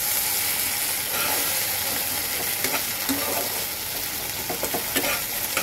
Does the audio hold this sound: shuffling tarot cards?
no